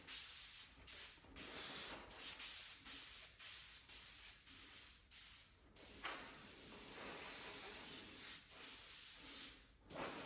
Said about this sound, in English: I spray it really wet, like right there.